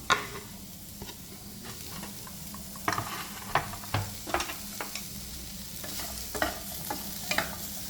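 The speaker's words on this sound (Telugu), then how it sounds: "దీంట్లో మనం పెద్ద ఉల్లిపాయలు వేద్దాం ఇవి కూడా ఆయిల్ లేకుండా ఆయిల్ లేకుండా మనం రోస్ట్ చేసుకోవాలి" Large onions dry-roast in a pan without oil, giving a faint low sizzle with scattered scraping stir strokes and clicks, close and unaccompanied by speech, for a fish dum biryani.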